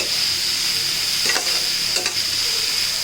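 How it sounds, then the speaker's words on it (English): Onions fry in a pan and are stirred, giving a loud, steady sizzle. Two brief scraping strokes of the spoon cut through it, and no one speaks. "So I've been stirring this for 2 minutes and now you can see that the onions have become soft"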